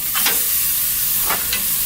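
Porterhouse steak sizzling on the direct-heat side of a grill after indirect smoking for a reverse sear, a steady close hiss with a few brief louder bursts of spitting fat, no talking.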